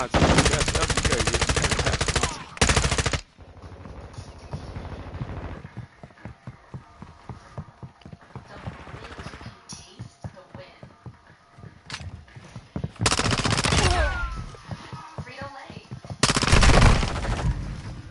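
Video game machine gun fire in bursts, loud dense automatic fire at the start and again near the end, with scattered shots and footstep-like clatter between, and a voice calling out briefly.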